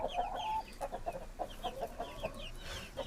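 Chickens clucking in a steady series of short, repeated calls, fairly close, with no voices.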